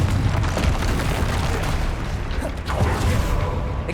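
Repeated booming spell blasts from the Confringo fire spell in the Hogwarts Legacy video game, a loud, dense rumble of bursts sustained throughout with a sharper hit near the end, during a fight with a troll.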